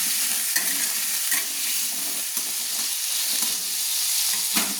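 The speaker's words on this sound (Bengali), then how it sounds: "দিয়ে দিলাম আমি সামান্য হলুদ, দিয়ে আমি আলুটাকে ভেজে নিচ্ছি" Potato pieces fry in oil with salt and turmeric in a pan, a loud, continuous close sizzle with occasional stirring scrapes and no talking.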